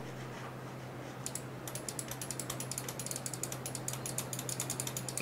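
Rapid run of small sharp clicks from a computer mouse button being pressed while a SteelSeries gaming mouse pad is handled, close by and fairly quiet, with no talk.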